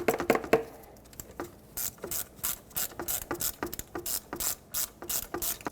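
A ratchet tightens the ignition coil bolts on a 2003-2008 Subaru Forester, giving quick, close, repeated clicking strokes in a steady rhythm.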